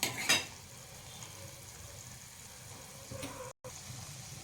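Masala frying in oil in a pan while being stirred, a quiet steady sizzle with a sharp scrape near the start and a brief cut near the end.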